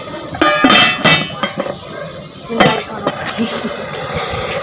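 A metal lid clanks onto a cooking pot of zarda sweet rice, giving a few sharp clinks and knocks near the start and one more a moment later, close and clear over soft kitchen background.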